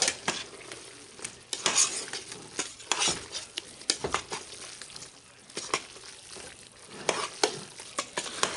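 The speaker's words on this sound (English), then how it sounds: "Now, what I'm going to do is I'm going to mix this up." A utensil stirs jambalaya in a pot, making repeated scraping, clattering strokes over a soft sizzle, with bursts of louder stirring spread irregularly throughout.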